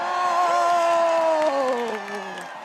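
Large rally crowd greeting Maxine Waters with loud cheering and whooping, a sustained roar of voices with rising and falling cheers that slowly fades toward the end.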